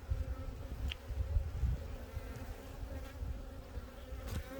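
Honeybees drone in a continuous low buzz over a hive frame, a dense close swarm hum that wavers slightly as individual bees pass near, steady throughout with no talking.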